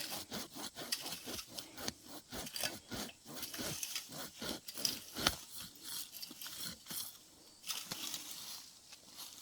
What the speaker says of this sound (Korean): 나무 뿌리가 깊게 박혀 있는데 이것도 마저 자르겠습니다